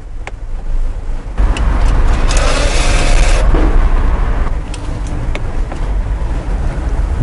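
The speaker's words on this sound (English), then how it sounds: "release of parking brake takes approximately 3 seconds" Electromechanical parking brake on a car releasing, a steady whirring motor drone lasting a few seconds over a constant low hum, with a few light clicks.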